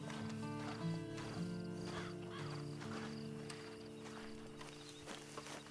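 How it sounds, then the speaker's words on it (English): Horse hooves in the video game Red Dead Redemption 2, a steady clip-clop of hoofbeats under ambient game sound, with no talk over it. "And you better get on this horse."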